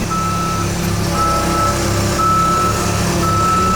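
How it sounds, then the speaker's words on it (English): Truck backing up in reverse second gear, its reversing alarm sounding a steady tone over a loud, continuous diesel engine idle, close by. "So I'm going to shift this thing into reverse and take the parking brake off."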